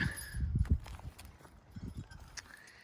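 Work horses pulling a plow across a field step along with soft, muffled hoof thuds in short clusters, fairly close and moderately quiet against a faint outdoor background.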